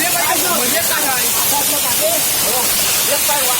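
A waterfall's steady broadband roar rushes close by and continuously, with people talking over it throughout.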